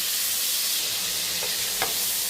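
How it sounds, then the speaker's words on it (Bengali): Prawns frying in hot oil in a pan, a steady close sizzle and hiss throughout with a couple of brief clicks near the end, no talk. "তেল গরম হয়ে এসেছে এখন চিংড়ি মাছগুলোকে দিয়ে অল্প করে ভেজে নিচ্ছি"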